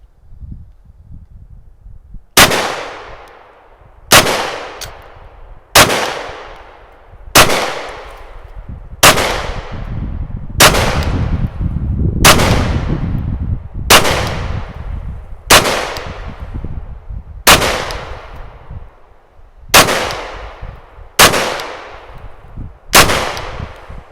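A Glock 9mm pistol firing Russian lacquered rounds, about thirteen loud sharp shots at a steady, slightly uneven pace, each followed by a ringing decay, with no talk.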